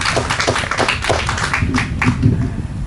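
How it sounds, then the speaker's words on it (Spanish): Church congregation clapping together in praise, a dense, steady patter of many hands at close range that keeps going without a break. "Le damos un fuerte aplauso al Señor."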